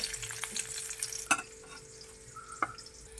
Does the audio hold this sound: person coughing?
no